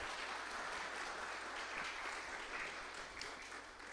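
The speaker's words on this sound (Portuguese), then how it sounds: "Vamos aplaudir a Jesus pela vida dessa irmã abençoada." A church congregation claps together in a sustained, even wash of applause, fairly faint and distant over a low hum, without a break.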